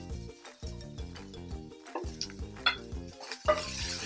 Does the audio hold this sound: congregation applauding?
no